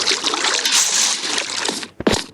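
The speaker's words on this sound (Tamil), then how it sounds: "என்கிட்ட பக்கெட்டில் தண்ணி இருக்குது, அதையும் வச்சு ஃபுல் பண்ணுவோம்." Water poured from a bucket in Minecraft, a continuous splashing, trickling wash lasting about two seconds, then a brief pause and a short final slosh.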